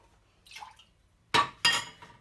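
Salted, pressed aubergines for makdous shed water onto a plate: a soft splash, then two sharp, close drips or splatters a third of a second apart, with quiet between.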